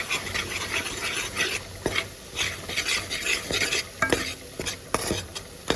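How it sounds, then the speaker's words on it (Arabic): A spoon scrapes and stirs flour steadily into hot oil in a pan while it sizzles softly underneath, with occasional light clinks of metal, close by. "هنقلب بقى كده نخليه في الزيت."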